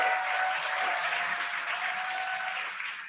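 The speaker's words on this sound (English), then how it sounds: "You can hear the crowd here." Crowd at a Dragon Freedom capsule splashdown cheering and applauding in a steady, dense roar that holds at even strength throughout, a thin sustained tone running underneath.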